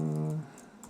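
Computer keyboard typing, a short run of light clicks that follows a held tone, faint and close with no talk over it.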